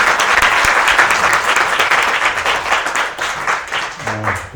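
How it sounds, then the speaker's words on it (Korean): A congregation applauds after a prayer at a church seminar, dense loud clapping from many hands that starts strong and gradually thins toward the end. "우리 박수를 하겠습니다"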